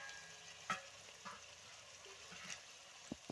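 Curry leaves and chopped onion frying in hot oil for a tomato curry, a soft steady sizzle with a few brief stirring clatters against the pan, faint and close, with no talk.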